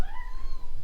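A single drawn-out cat meow, fairly close and clear, rising slightly and then fading over almost a second in a quiet indoor room.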